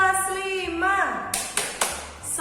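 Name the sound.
class clapping a rhythmic cheer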